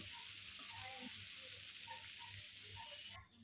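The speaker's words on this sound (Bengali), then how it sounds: "ক্যাপসিকাম আর বিনস, সেটা আমি এবার কড়াইয়ের মধ্যে দিয়ে ভালো করে ভেজে নেব লাল লাল হওয়া পর্যন্ত" Capsicum and beans frying in a kadai, giving a soft, steady sizzling hiss with faint stirring sounds, quiet and continuous with no voices.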